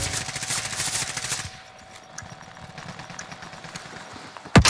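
Automatic gunfire crackles in Warzone on Rebirth Island, a loud rapid burst for over a second, then scattered fainter distant shots, ending with one sharp close crack.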